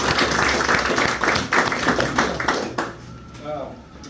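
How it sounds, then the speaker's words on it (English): A banquet audience at a motorsports hall of fame event claps in a brief burst of scattered, close applause that thins out after a few seconds as a voice begins speaking. "Round of applause for everybody involved with that."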